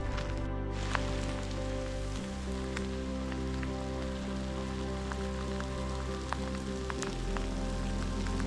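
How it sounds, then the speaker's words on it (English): Steady rain falls at a Boulder County Fairgrounds RV park, a constant dense patter on surfaces beneath a low continuous hum, with no one talking. "Right now the rain feels good."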